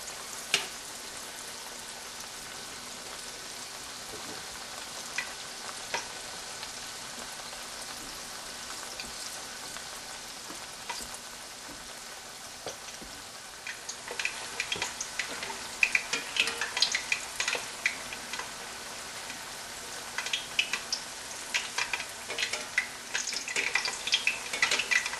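Sliced squash and zucchini fry in a pan, making a soft continuous crackle and sizzle that grows busier and more spattering in the second half.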